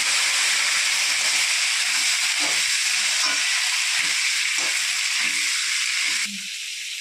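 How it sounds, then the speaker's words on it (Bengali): Potatoes and vegetable stalks hit hot oil with cumin seeds in a loud, steady sizzle and hiss that stays constant throughout, close by, with faint stirring underneath and a slight drop near the end. "এবার আমি ডাটা আর আলুটা তেলের মধ্যে দিয়ে দেবো।"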